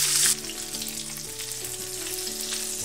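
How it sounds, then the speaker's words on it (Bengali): Dried fish coated in salt and turmeric frying in oil, a loud, steady close sizzle with faint stirring and no talking. "লবণ হলুদ মাখিয়ে ভেজে নিব।"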